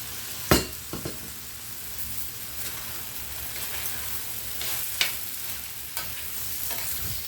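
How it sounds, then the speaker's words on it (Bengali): Boiled green mung beans go into a pot of kale rice and are stirred through, making a soft, wet, continuous shuffling with a faint sizzle underneath. A few sharper knocks of the spoon against the pot stand out, and nobody speaks. "এখানে দিয়ে দিচ্ছি আমি আমার গ্রিন মুগ সেদ্ধ করা"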